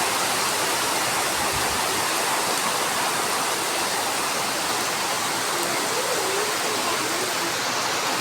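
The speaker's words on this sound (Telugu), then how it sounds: "ఎంత పెద్ద వర్షం వస్తుందో అసలు." Heavy rain pours down steadily, a dense unbroken hiss of water that is constant and moderately loud throughout, with no voices.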